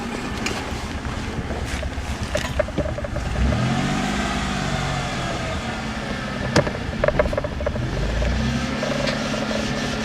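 A 1992 Ford Explorer engine revs with the throttle held fully open, rising and falling in loud, close surges over steady wind buffeting on the microphone.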